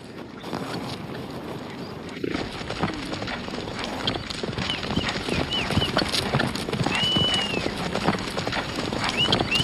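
Rhythmic clip-clop of galloping Ili horse hooves in Xinjiang, China, fairly close, with occasional whinnying and outdoor noise in the background.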